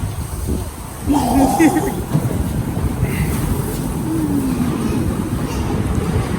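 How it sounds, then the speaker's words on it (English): Strong wind blowing hard outdoors on a wild day, a constant loud rushing roar that fills the whole clip, with brief higher voice-like sounds partway through. "The wind is blowing crazy."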